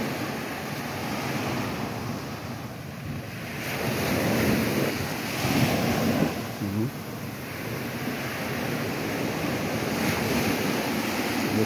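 Strong surf and gusting wind on the beach at Puting Buhangin, Cagwait, Surigao del Sur: continuous roaring waves with heavy wind buffeting the microphone, and a swell of crashing water midway.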